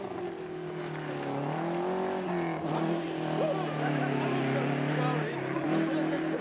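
A BMW 2002 Ti historic rally car drives hard at a rally, its engine droning steadily loud with shifting pitch and revs throughout, with a voice talking over it.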